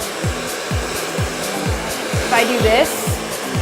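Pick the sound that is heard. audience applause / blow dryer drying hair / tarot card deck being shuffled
blow dryer drying hair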